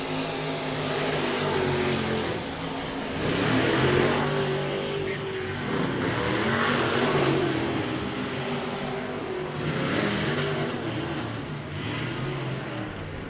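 Mini sprint race cars roar around a wet oval speedway track, engines droning loudly and continuously as they pass, rising and falling in waves with no clear gaps.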